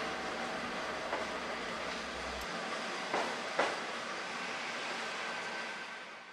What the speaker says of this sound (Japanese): キハ40はここでお別れです。